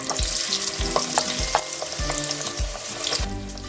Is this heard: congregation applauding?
no